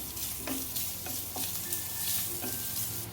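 Freshly grated coconut sautéing in a pan, a steady sizzle broken by regular stirring scrapes, close and fairly quiet.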